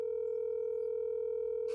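A phone call on speaker rings out as a steady, unbroken electronic tone that holds at an even level from start to finish, with no talk over it.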